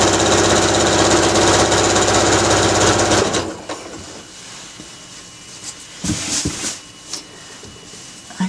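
A sewing machine stitches a fabric drawstring bag, running in a loud continuous whirring burst for about three seconds, then stopping, followed by quieter handling noises and brief clicks.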